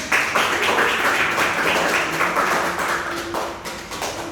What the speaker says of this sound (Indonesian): Tepuk tangan lalu untuk mereka.